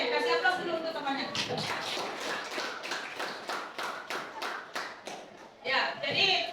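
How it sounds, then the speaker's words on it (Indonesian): Classroom applause for a classmate in a high school lesson, a burst of many hands clapping steadily and fairly close for several seconds, with a brief louder flurry near the end. "kasih aplaus dulu untuk temannya"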